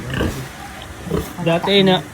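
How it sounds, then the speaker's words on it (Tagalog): A pregnant pig grunts and snorts close by, a few short rough bursts followed by a longer squealing grunt, with people talking nearby. "Baboy ko."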